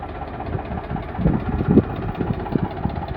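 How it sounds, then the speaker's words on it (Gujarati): A 2014 Eicher 485 45 HP tractor with a hydromatic system idles close by, its diesel engine giving a steady low chugging knock with slight uneven pulses, loud and alone with no talk. "45 HP નું ટ્રેક્ટર આવશે."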